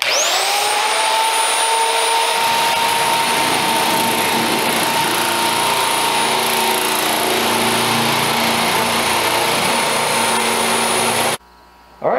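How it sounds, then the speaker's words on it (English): An angle grinder smooths the sharp cut edges of sheet metal, giving a loud, steady high-pitched whine that holds nearly constant for about eleven seconds before cutting off abruptly near the end. "I went ahead and ran a grinder over my sharp edges"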